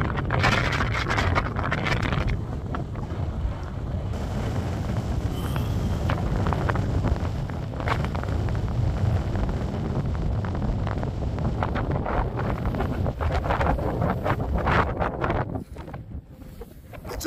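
Strong wind buffets an outdoor microphone on a spring break road trip toward Bonneville, a loud, continuous rumbling roar with gusty surges that eases near the end.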